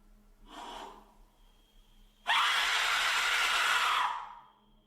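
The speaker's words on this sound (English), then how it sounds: "now it's time for a scream with an Aztec whistle." An Aztec death whistle lets out a harsh, hissing scream lasting under two seconds, loud and close, preceded by a fainter breathy burst and then fading out.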